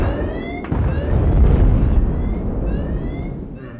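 Dense, loud explosions and booming rumble in the video game Battlefield 4 fill the moment continuously, with a swelling roar and some high whistling tones over a heavy low-end wash.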